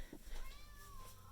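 A house cat lets out a short, faint meow with a rising, wavering pitch, heard close but quiet in an indoor room.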